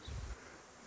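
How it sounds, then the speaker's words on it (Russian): A swarm of honey bees flies past a beekeeper's apiary, a brief low droning buzz that swells for a moment and then fades into the quiet of the outdoor air. "Смотрите, летит рой."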